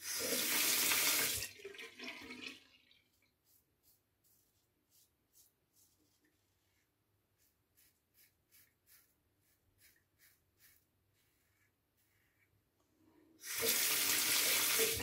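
A tap gushes loudly for a moment, falls into near silence broken by faint soft clicks, then runs again as an adjustable Pearl Flexi item is rinsed.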